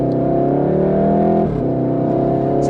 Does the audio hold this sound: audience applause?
no